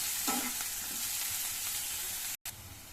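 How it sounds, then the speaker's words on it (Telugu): Onions sizzle and fry in a pan while being stirred, a steady hiss with scraping stir sounds and a brief cut near the end. "చూడండి, ఎర్రగడ్డలు వేగినాయి."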